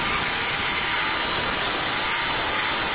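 A 2.5 mm bit drills through material while fitting a cheap shed light, giving a steady, loud, broadband whirring and grinding that runs unbroken for the whole stretch, with no voices.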